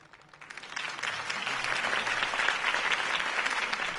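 Crowd applause after a Harvey Dent campaign speech in a Batman video game, swelling from light clapping into a full, sustained ovation from a sizable crowd.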